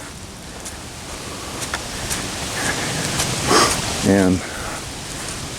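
Rain falls steadily through the woods around someone out walking and fishing, a constant soft hiss with a voice speaking briefly over it.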